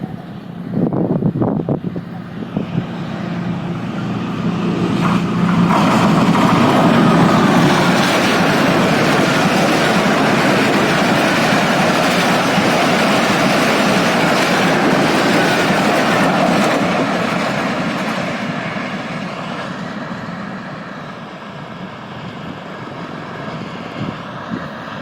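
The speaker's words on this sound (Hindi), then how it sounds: "Awam express 14 down with top speed, ZCU 20 lead कर रहा है।" The Awam Express, led by a ZCU 20 locomotive, passes Kala Shah Kaku railway station at top speed: a loud, sustained roar and rumble that builds, holds for many seconds, then fades.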